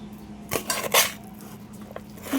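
Dog food with ground meat and mixed vegetables stirred in a bowl, a few clinking, scraping knocks of utensil against dish close by, with quiet pauses and no talking.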